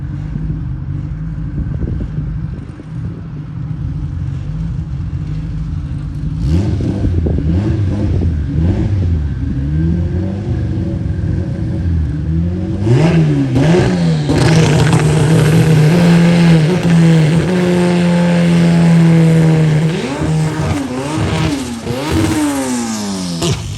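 Race car engine at a PSCA qualifying session revs and accelerates on track, rising pitch through the gears, loud and close, with commentary faintly underneath.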